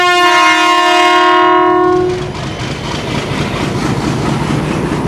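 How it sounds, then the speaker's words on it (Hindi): A loud train whistle blares close by for about two seconds at a junction in Pakistan, on the Kohat Express, then gives way to the steady rumble and clatter of the train. "आपने देखा विसल हो गया"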